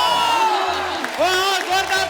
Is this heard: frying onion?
no